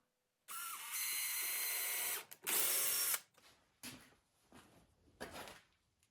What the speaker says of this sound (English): drilling holes and tapping threads in plastic